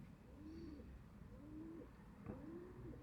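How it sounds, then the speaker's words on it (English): Pigeons coo during an evening solar eclipse near Birmingham, UK: three soft, rhythmic coos about a second apart, faint and at some distance over low outdoor background hum. "The pigeons are going for it."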